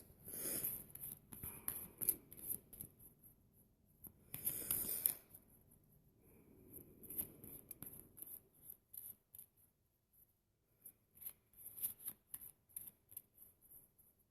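A tarot card deck being shuffled by hand, soft riffling and papery rubbing in quiet bursts with pauses between, close and faint.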